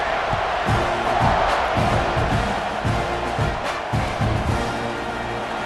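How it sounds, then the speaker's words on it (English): A football stadium crowd roars and buzzes just after a score, a loud continuous wash of cheering with scattered shouts and no clear talk over it. "this crowd is buzzing after that last score."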